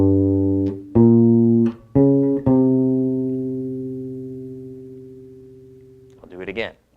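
An electric guitar slowly plays a riff, a few sustained chords struck one after another, the last note ringing and fading over several seconds before a brief scrape at the end.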